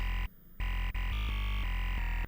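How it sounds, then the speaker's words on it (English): A noisy, distorted sine-like synth tone from a spectral wavetable, held as a steady buzzing drone with gritty harmonics, briefly dropping out and then shifting pitch in a few stepped changes, on its own without talk. "that's where this is basically just like a really noisy distorted sine"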